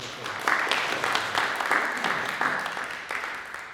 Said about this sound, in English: So can we give them a little welcome round of applause?